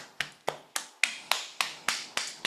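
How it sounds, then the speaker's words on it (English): Cupped hands tap steadily up the body onto the chest, nine evenly spaced hollow pats about a third of a second apart, close and crisp with nothing else behind them. "just tapping your way from here all the way up your body"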